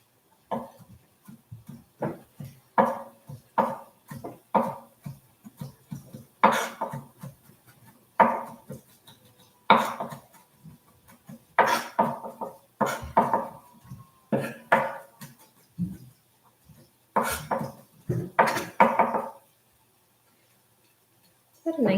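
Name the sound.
finely chopping with a knife on a cutting board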